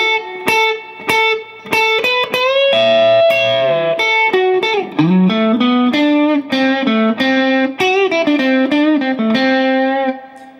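Distorted electric guitar plays the second half of the first solo of a song, with bent and slid notes and quick repeated phrases, loud and close with no talking.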